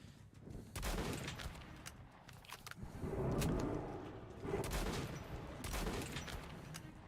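Shotgun blasts in Metro 2033 Redux, several heavy broadband bangs spaced a second or two apart over a rumbling game background, loud and close with no talking.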